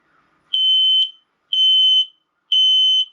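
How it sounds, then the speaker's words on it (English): An X-Sense combination smoke and carbon monoxide detector, during a smoke sensor test, sounds three loud, shrill electronic beeps, each about half a second long, evenly spaced with short silences between. "Testing the smoke sensor."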